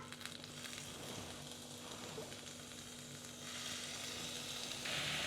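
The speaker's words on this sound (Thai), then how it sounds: "แล้วก็ย่างเลยนะครับ" Butter-basted skewered mushrooms grilling, a soft continuous sizzle and crackle heard up close at low volume, growing slightly louder toward the end.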